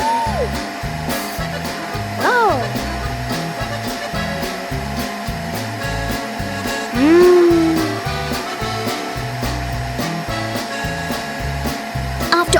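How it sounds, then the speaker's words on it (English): A noisy vacuum cleaner runs in a Peppa Pig cartoon, giving a steady loud whirring drone under cartoon music and sound effects, with a brief voiced exclamation. "Peppa Pig and the noisy vacuum cleaner."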